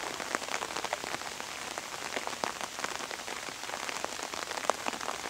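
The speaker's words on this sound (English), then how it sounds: "it's raining a decent amount, but it's kind of delightful out here in the rain" Rain falls steadily in an outdoor sculpture garden at Wyndcliffe Court in Wales, a dense close patter of drops striking surfaces with no voices.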